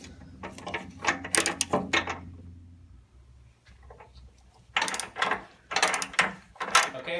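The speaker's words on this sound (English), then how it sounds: "I'm just using an 18mm socket with a slight extension on it." An 18mm socket on a short extension ratchets out bolts from a Jeep JL front bumper, rapid bursts of close metallic clicking separated by a short pause, no talking.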